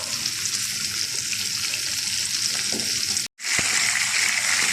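Breaded liver frying in hot oil, a steady close hiss and crackle running throughout with no talk, cut by a brief sharp gap before the sizzle resumes.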